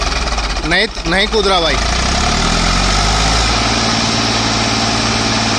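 An Eicher 5150 tractor runs flat out in fourth gear, a loud, heavy, continuous low diesel roar that stays close. Someone speaks briefly over it near the start.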